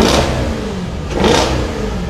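A 2015 Dodge Hellcat's engine revs loudly up close, one sustained roar that swells again near the end.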